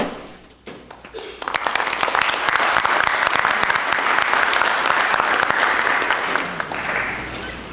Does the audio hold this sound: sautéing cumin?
no